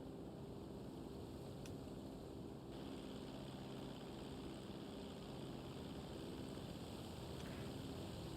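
A GTA Online airplane flies through snowy weather, its engine a steady, dense droning hum held constant throughout with no talking.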